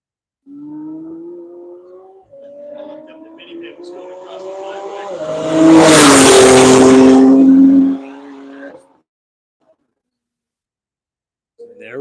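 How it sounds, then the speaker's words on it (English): A Corvette race car on track accelerates onto the front straight, its engine tone rising through gears from a distance, swelling loud as it passes close by with a broadband roar, then fading out to silence. "Corvette emptying out onto the front straight."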